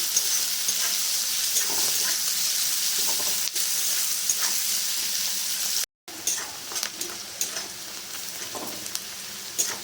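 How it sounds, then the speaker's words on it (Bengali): Onions sizzle steadily in a hot pan, with occasional soft scrapes of stirring and a brief cut to silence midway. "এবার ভালো করে একটু ভেজে নেবো পেঁয়াজটাকে"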